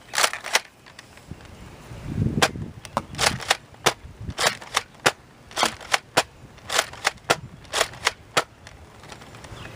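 A Nerf blaster fires foam darts in a long run of about twenty sharp, close, loud snaps. The shots come at an uneven pace, some in quick pairs, with short gaps between and no talking.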